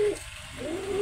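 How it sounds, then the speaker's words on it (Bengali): A pet pigeon from a breeding pair coos up close, a low soft call broken by a brief gap before it resumes, heard alone without speech. "আমার এই এক পেয়ার কবুতর, ও গতকালকেই ডিম দিছে"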